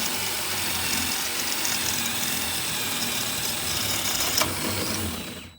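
A power drill bores a hole in a door for a gate deadbolt lock with a steady, moderately loud grinding whir that runs throughout and fades at the end.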